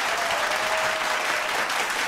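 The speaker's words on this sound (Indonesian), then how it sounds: "Terima kasih tepuk tangannya, ini membuat kita semakin bersemangat ya." Steady, dense applause from an indoor audience at a youth culture appreciation evening in a Jakarta hotel, continuous and loud throughout with no talk over it.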